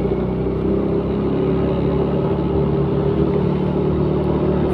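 A scooter engine drones steadily on a Sunday morning ride, a constant mid-pitched hum with road rumble, heard up close without talk.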